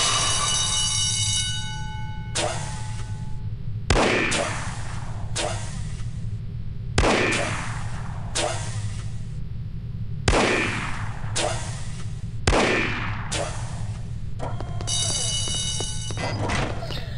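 Revolver gunshots in the video game No One Lives Forever, a series of loud, spaced single shots, each followed by a ringing tail, over a steady game background hum.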